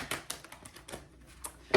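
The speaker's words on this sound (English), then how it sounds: "I'm going to do a couple more shuffles" Tarot cards being shuffled by hand, a quick run of light papery riffles and taps ending in a sharper flurry, close and fairly quiet.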